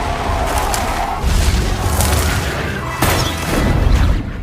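A loud Molotov cocktail blast in a creature film scene, rendered as a sustained roaring boom with crackling fiery rumble and a second surge partway through, no talk.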